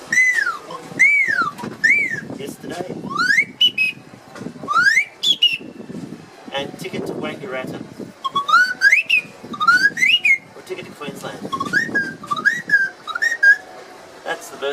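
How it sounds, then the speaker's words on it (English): A handheld bird caller whistle, played by blowing while sliding a stick up and down, gives repeated rising and falling chirps and warbles at a show demonstration, with someone talking between and over the calls. "That's the bird caller."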